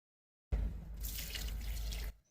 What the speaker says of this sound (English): Pour the solution around the base of your plants until the soil is evenly